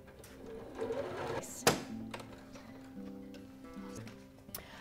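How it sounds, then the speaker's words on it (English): Sewing machine stitching curtain fabric into a tote bag, quiet, rapid mechanical ticking in uneven bursts with a sharp clack partway through, close and without speech. "I'm just going to be stitching the other side."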